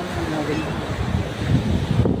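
Strong wind roars and buffets the microphone continuously, a dense, rushing noise with no pauses.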